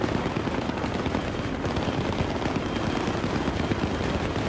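Continuous heavy gunfire fills Battlefield 3, a loud, dense wall of automatic shots and rumbling blasts with no break and no talking.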